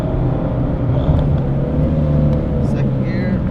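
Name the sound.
Mitsubishi Evo X E85 accelerating at part throttle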